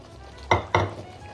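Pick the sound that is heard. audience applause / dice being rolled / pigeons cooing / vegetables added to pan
vegetables added to pan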